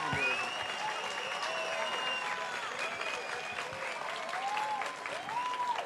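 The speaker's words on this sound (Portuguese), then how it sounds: "Palmas para ela." Audience applauding Carol at a 2016 political debate event, steady sustained clapping with cheers and some voices mixed in throughout.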